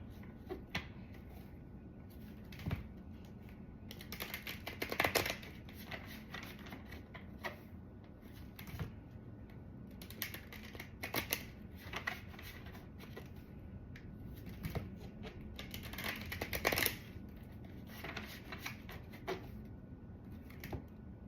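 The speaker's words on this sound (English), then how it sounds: "let's pull some tarot cards for you guys" Tarot cards being pulled and shuffled by hand at a table, a quiet run of soft papery flicks and sharper taps and slaps, close and irregular, with louder clusters of shuffling now and then and no talking.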